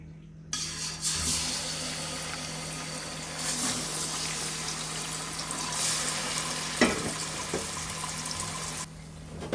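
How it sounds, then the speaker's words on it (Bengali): Marinated chicken pieces hit hot oil in a pot for a homemade biryani, bursting into a loud, steady close sizzle with stirring scrapes and clatter, then going quiet near the end. "ম্যারিনেট করা মুরগির মাংসটা দিয়ে দিব"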